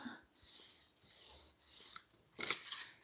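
Paper edges being folded and pressed flat with a ruler, giving soft close rubbing strokes in short bursts separated by brief pauses.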